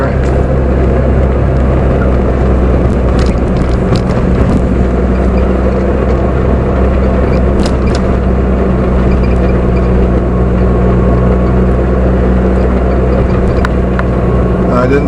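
Car engine pulling hard uphill in third gear, a loud steady droning rumble that stays near and constant, with someone talking over it.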